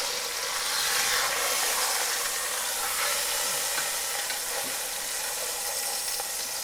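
Pot roast sears in a Le Creuset Dutch oven, giving a steady, close, fairly loud sizzle and crackle of frying meat that holds without pause, with no voices.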